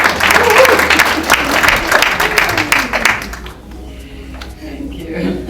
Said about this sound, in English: So clap.